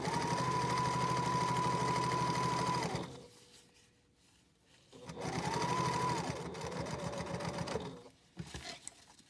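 A sewing machine runs in two steady bursts, stitching a back stitch on a packing cube, with a brief pause between runs and soft handling noises after.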